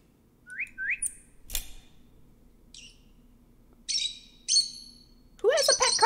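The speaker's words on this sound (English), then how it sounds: "Looks like a cardinal." A cardinal singing in the Virginia video game: quick rising whistled notes and bright chirp bursts spaced out over a quiet background, ending in a louder cluster of calls.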